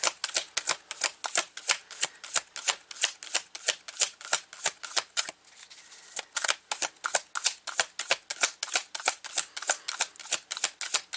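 Tarot cards riffle and slap in quick repeated shuffles, crisp and close, with a short quieter pause midway before the rhythmic shuffling resumes; no one speaks.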